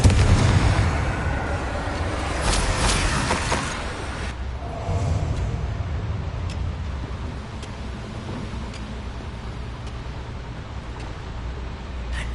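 Confringo blasting spell explosions from the game Hogwarts Legacy open with a loud burst of rumbling blasts, then fade into a lower, fading rumble with faint ticking.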